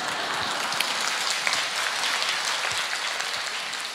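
A crowd at a Buddhist question-and-answer meeting in Melbourne breaks into steady applause, a thick continuous rattle of many clapping hands lasting several seconds, fairly close and unbroken by speech.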